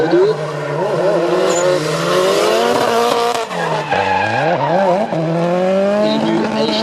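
Drift cars at a race in Le Castellet, loud tire squeal and skidding with wavering engine revs, sweeping up and down continuously and close by.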